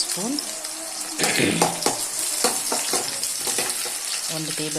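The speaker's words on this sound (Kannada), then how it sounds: "ಸೊ ಎಣ್ಣೆ ಬಿಸಿ ಆದಮೇಲೆ ಅದಕ್ಕೆ ಸ್ವಲ್ಪ ಈರುಳ್ಳಿ, ಹಸಿಮೆಣಸಿನ್ಕಾಯಿ" Onion and green chilli fry in about two tablespoons of hot oil in a pan for a fish curry, with bursts of sizzling and stirring scrapes up close under intermittent tonal sounds.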